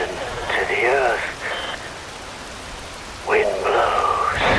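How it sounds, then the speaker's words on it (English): Rain falls steadily in Metal Gear Rising: Revengeance, a constant soft hiss that continues under two stretches of sliding, voice-like tonal sounds. "Wind blows, rain falls."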